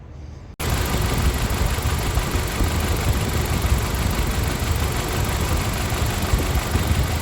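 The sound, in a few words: 2015 Jeep Patriot 2.4L engine idling with compression popping misfire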